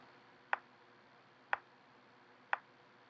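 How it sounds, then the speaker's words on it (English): A metronome set to 60 beats per minute gives three sharp, evenly spaced clicks exactly one second apart, quiet and alone over faint background hiss. "Now if I turn it down to 60, these beats will equal 1 second. So like a clock, you'll hear it like this."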